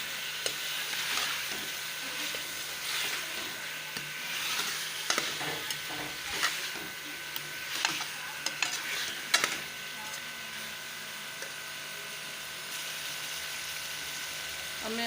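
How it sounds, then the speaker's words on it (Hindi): Half a kilo of washed, cut chicken pieces sizzle and hiss steadily in a hot frying pan for a chicken and potato curry, with stirring scrapes and clinks through the frying; a voice comes in now and then. "अब मैं चिकन शामिल कर रही हूँ।"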